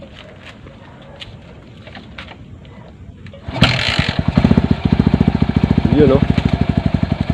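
A Bajaj CT-100 motorcycle engine catches after starting and settles into a loud, steady rapid thumping idle, preceded by quieter fiddling sounds and someone speaking briefly.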